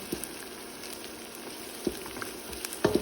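Onion and garlic softening in a pan for kabsa, a faint steady sizzle with a few small pops and a light clink near the end, no one talking.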